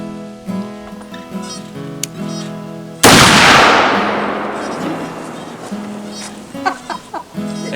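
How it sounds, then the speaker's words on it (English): A single loud gunshot from a hunting gun rings out during deer season, a sharp close blast with a long ringing decay, set against quieter background music-like tones and light noises afterward. "let me shoot it one time"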